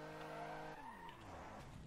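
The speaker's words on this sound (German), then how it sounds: "warum rutsche ich denn so scheiße mit dem Wagen?" Car skidding in the video game Alarm für Cobra 11 Undercover, a faint engine drone that shifts into a sliding, tire-squealing smear lasting under two seconds, with no voices.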